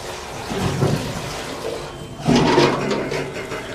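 Water gushes and splashes as it is poured to flush a clogged, overflowing toilet in a government social welfare hostel in Adilabad district, rising in two loud surges.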